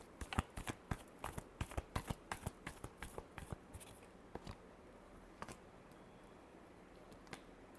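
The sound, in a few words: shuffling tarot cards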